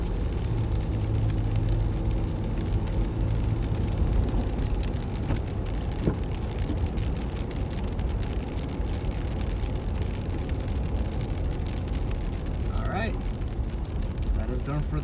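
A 1995 Toyota Hilux Surf (4Runner) rolls along on a test drive, its steady engine and road rumble continuous throughout, heard from inside the cabin with rain-like road noise and a brief voice near the end.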